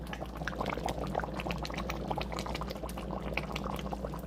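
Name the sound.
chili con carne boiling hard in a pot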